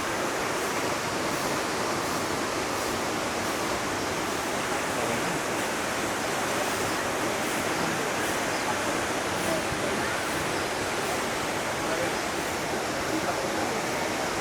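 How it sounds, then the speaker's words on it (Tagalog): Katibawasan Falls, a very tall waterfall on Camiguin, pours with a dense, constant roaring hiss that stays unbroken and steady from start to finish. "Ayan yung Katibawasan Falls, sobrang taas."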